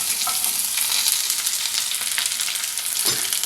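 Onion pieces and green chillies fry hard in hot oil, a loud, dense, unbroken sizzle filling the whole stretch, with a brief scrape of stirring near the end.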